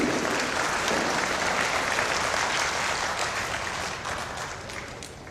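Audience applause at a self-development lecture, loud and dense from the start. The steady clapping tapers gently toward the end, with no speech over it.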